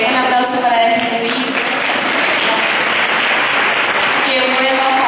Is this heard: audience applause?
yes